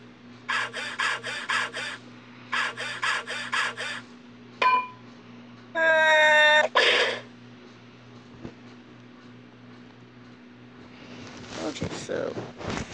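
A rasping file scraped against a prison window in a video game, in bursts of repeated rhythmic strokes, followed by a few other sharp game effects and a quiet stretch.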